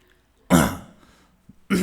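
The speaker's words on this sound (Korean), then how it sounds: "내가 이렇게 기침을 해가지고 이렇게 한 일이 없었는데" A man's throat clearing and coughing, loud and close: one harsh burst that tails off, a brief pause, then a second burst, with no talk between them, during a church sermon.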